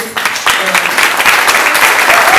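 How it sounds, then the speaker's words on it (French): An audience breaks into loud, sustained applause that swells and holds, dense clapping filling the room. "on est là pour Pascal, on l'applaudit, on la présente"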